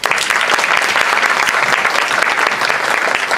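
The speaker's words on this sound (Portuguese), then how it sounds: "Uma salva de palmas, por favor." Sustained applause from a seated audience at a pulmonary rehabilitation talk on rare respiratory diseases, a dense, even wash of many hands clapping at steady loudness throughout, with no voices over it.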